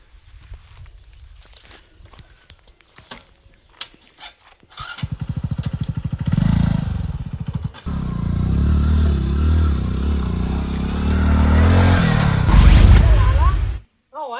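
A motorcycle rides up and its engine runs close and loud for several seconds after some footsteps and clatter, then cuts off abruptly, with a person talking over part of it.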